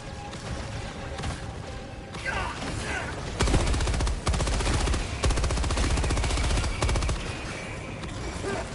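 Weapon reloading in Helldivers 2, mechanical clicks set against sustained rapid automatic gunfire from the middle onward, loud and dense in a busy battle scene.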